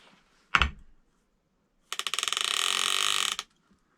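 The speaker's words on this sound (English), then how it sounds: "The one thing I am interested in is the clicker. Oh yeah, that sounds good." The clicker on a Lew's Laser XL baitcaster reel, set up for catfishing, ratchets in a rapid, loud burst of evenly spaced clicks for about a second and a half, after a single sharp handling knock earlier.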